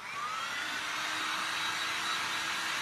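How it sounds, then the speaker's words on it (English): A handheld dryer blows steadily on a glass and resin art piece, a loud continuous whooshing roar with a faint whine, and no voices. "I'm gonna hit this with the dryer"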